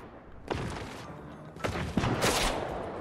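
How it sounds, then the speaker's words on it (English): Short bursts of gunfire from Fortnite, a couple of sharp volleys about a second apart, moderately loud with no talking over them. "Let's just stay here, shoot the gaming setup."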